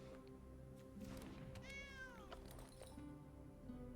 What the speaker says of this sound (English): you guys do hear like the noises, and you hear the cat meow, correct?